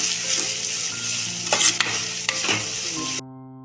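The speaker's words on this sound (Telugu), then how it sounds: "కడాయి పెట్టి 4 టేబుల్ స్పూన్స్ ఆయిల్ వేసుకుని వేడెక్కాక సన్నగా తరిగిన పచ్చిమిర్చి, ఉల్లిపాయ ముక్కలు, కరివేపాకు, కొత్తిమీర కాడలు, చిటికెడు సాల్ట్ వేసి మిక్స్ చేసుకోవాలి" Finely chopped green chillies, onion, curry leaves and coriander stems with a pinch of salt sizzle in hot oil in a kadai, a steady close frying hiss broken by a few stirring scrapes before it cuts off to light background music.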